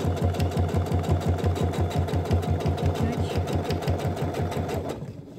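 Sewing machine stitching a seam and backstitching, a fast, steady mechanical chatter of regular needle strokes close up, stopping abruptly near the end.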